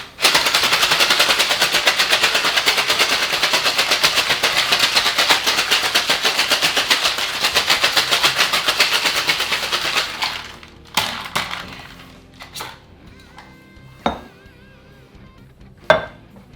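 A cocktail shaker is shaken hard, a rapid, loud rattling of ice for about ten seconds, followed by a few scattered clinks and knocks as it stops.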